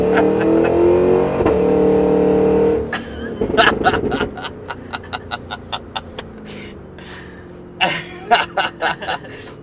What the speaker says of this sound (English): I think this is the best exhaust system I've ever been in